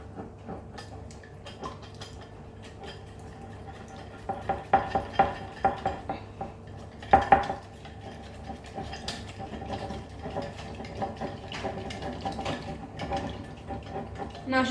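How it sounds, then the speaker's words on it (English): Seasoned tart mixture for a pizza-style savoury tart being whisked in a bowl, light rhythmic metal clinks and taps against the bowl, briefly quickening into a louder burst of beats midway, no voices. "And then give it a whisk."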